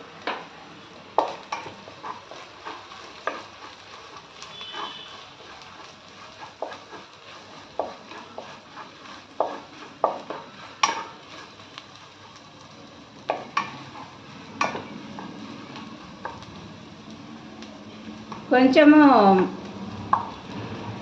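Chicken curry cooking in a pan with turmeric and green chilies, a low steady sizzle broken by repeated sharp spoon scrapes and clinks from stirring, with a short louder clatter near the end.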